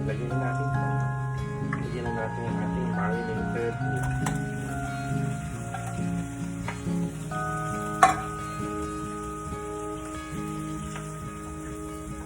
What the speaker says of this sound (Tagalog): let's put our marinated spare ribs. This with soy sauce and Worcestershire sauce.